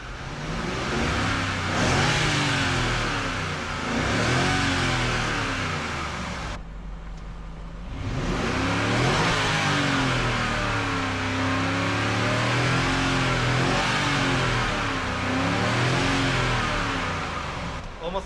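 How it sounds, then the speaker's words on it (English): BMW X5 4.6is engine under load with a suspected timing chain tensioner fault, revving in long rising and falling sweeps with a brief lull midway, loud and close throughout. "Almost sounds like a timing chain tensioner."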